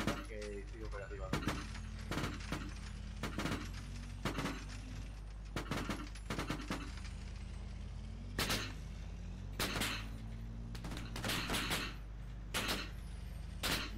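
Gunfire in a military video game mission with a mechanized section: repeated sharp, loud shots in irregular clusters over a constant low engine rumble, with voices talking in between.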